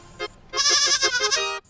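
A goat bleats, a short call followed by a longer wavering bleat with a harsh, pulsing quality, fairly close and alone in a quiet setting.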